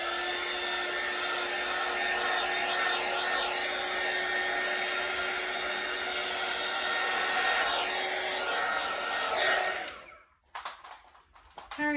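A heat tool blows steadily onto an acrylic pour painting, giving a continuous hair-dryer-like whoosh close by that cuts off near the end, followed by a few light handling sounds.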